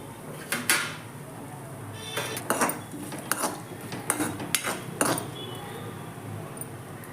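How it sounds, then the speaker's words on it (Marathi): A spoon scrapes and clinks against a pan while coconut roasts in a little oil with cumin for a flaxseed chutney. Sharp metallic knocks come in irregular bursts over a low, steady background. "मी थोडंसं तेल घातलेलं आहे आपण आता खोबरं भाजून घेऊया"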